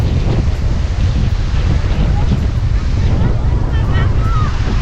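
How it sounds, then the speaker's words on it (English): Strong wind buffets the microphone in loud continuous gusts at a beach on Coco Cay, with surf rolling in the background. "And it's just as windy as it was before."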